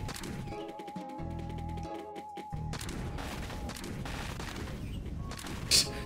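Rapid gunfire from a weapon in the video game Monsters and Monocles, a steady run of shots with crashing impacts and game effects, fairly loud and continuous.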